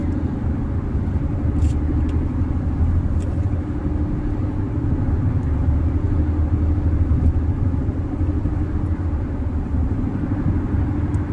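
A car driving through a long road tunnel in the UAE, a steady, loud, enveloping rumble of engine and tyres that holds evenly throughout, with a few faint clicks on top and no talking.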